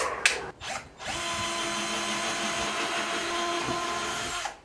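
A combi drill driving a screw while building shed shelves, with a short burst and then a steady whirring run of about three and a half seconds, close and loud, with no talk.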